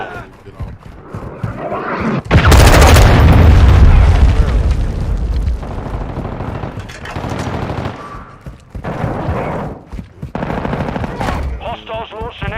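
A cruise missile blast in the Call of Duty: Modern Warfare 2 beta on PC erupts as a loud, close boom with a rumbling tail, followed by ongoing gunfire and battle noise.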